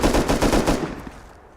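Automatic rifle, an LR300, firing in the video game Rust: a rapid burst of about six sharp shots in quick rhythm, then a fading echoing tail.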